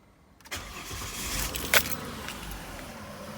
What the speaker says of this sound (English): we'll give it a start now after filling it up with oil.